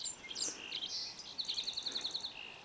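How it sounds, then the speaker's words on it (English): Birds chirp and sing at dawn in quick bright calls, with one bird giving a fast, evenly spaced series of repeated notes, moderately near over a quiet background. "There's birds everywhere, talking."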